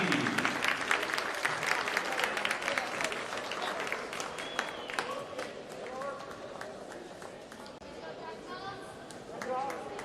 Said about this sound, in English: Let's have a nice round of applause for all of our seniors